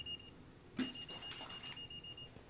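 Electronic beeping from a voltage tester detecting live wires at a switched-on circuit, heard as steady high tones with a brief louder burst, fairly quiet.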